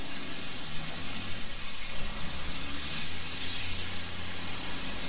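A steady, loud broadband hiss of water jetting from a fire hose in the EmergeNYC firefighting game, continuous and close throughout with no talking.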